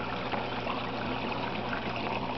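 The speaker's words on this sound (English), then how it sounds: "once the siphon takes off, it just flows out." Water rushing steadily out of an aquaponics grow bed through a siphon drain, a continuous close gurgling flow without pauses.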